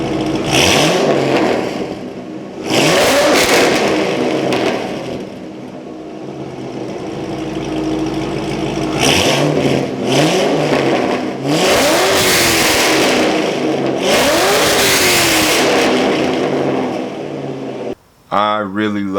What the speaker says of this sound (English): This is probably the best sounding exhaust that I've had on any car I've owned